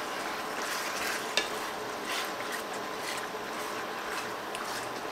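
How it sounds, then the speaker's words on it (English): Penne pasta is stirred into a creamy Cajun shrimp casserole sauce with wine, making a steady wet, squelching churn close up, with one sharp clink of the spoon against the pan partway through. "I'm going to add about half of this right now, mix it together"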